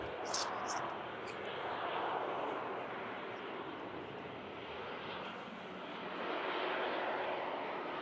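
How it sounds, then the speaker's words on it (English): An Airbus A320 airliner landing at Manchester Airport, a steady distant engine roar with broad rumbling noise that swells slightly toward the end. "Decent landing there from the Airbus A320."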